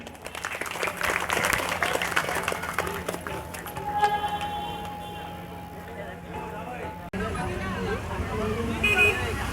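A crowd at the 2026 Shimga festival in Achole claps to welcome arriving dignitaries. Dense clapping is strongest at first, then thins beneath crowd chatter, a sustained tone and outdoor noise.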